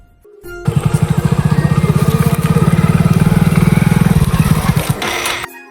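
A stalled motorbike on a road is started and settles into a fast, steady idle: loud, close, regular engine pulses running for several seconds before a brief drop at the end. No one speaks.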